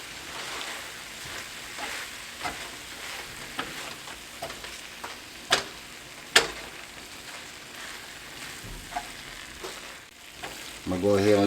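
Chicken egg roll filling sizzles steadily in a pan as cheese melts into it, with a few sharp taps and stirring clicks from the pan, close up and without talk.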